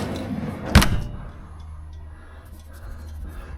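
A Kings 60L Mark 2 drawer fridge door shuts with a single close, firm thump and a short rattle, followed by quiet room hum.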